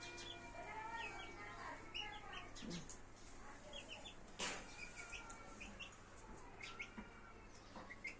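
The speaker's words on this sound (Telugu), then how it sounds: "ఇగో వీళ్ళ ఇంటికాడ కోడిపిల్ల ఉన్నది ఒకే ఒక కోడిపిల్ల" A lone chick peeps near a village house, short high chirps scattered over steady outdoor ambience with other birds calling faintly around it.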